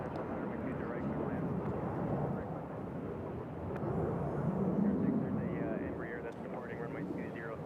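A distant military F-18 jet roars overhead near Nashville International Airport, a steady broad rumble that swells in the middle and fades, with people talking over it throughout.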